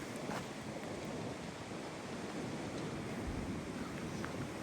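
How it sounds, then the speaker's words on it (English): Wind buffets a handheld camera's microphone beside a tidal creek with old jetty stilts, producing a steady low rumbling roar that stays fairly quiet and unbroken, with no talking. "Camera getting blown around by the wind a little bit."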